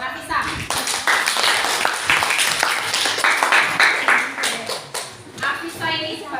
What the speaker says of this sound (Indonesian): Tepuk tangan dulu buat Afisa